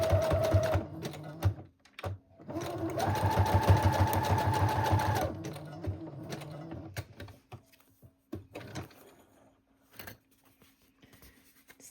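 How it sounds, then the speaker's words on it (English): A sewing machine runs in short close bursts, stitching back and forth over lace on a handmade junk journal, with steady needle rattle pausing between passes and light handling noises after. "Just going to sew back and forth like 2 times right where the lace is."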